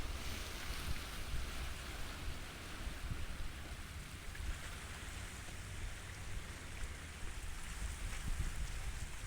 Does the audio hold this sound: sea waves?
yes